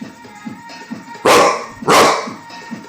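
A person imitates a dog with two loud, sharp barks in quick succession, standing out over a quieter background murmur.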